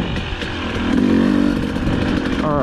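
A motorcycle engine at a race track drones steadily up close, with its pitch swelling briefly as it revs a little, then settling again.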